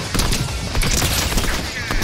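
Rapid, dense Fortnite gunfire: a loud burst of repeated shots packed closely together, harsh and close throughout the short stretch.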